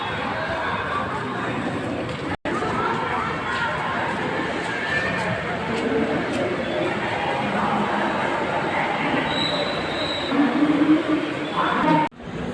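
Ambience of Ratnagiri station on the Konkan Railway: a continuous hum of crowd chatter and station bustle, with people talking nearby and a couple of abrupt cuts in the sound.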